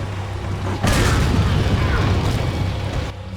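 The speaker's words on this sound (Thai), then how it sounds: "ระเบิดระเบิดระเบิด" A loud, sustained blast-like rumble from an explosion in Resident Evil 4 erupts suddenly and roars for a couple of seconds before easing off.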